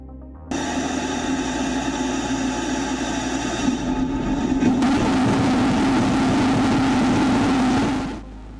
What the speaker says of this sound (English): This is just the gas generator from a spare F1 rocket engine.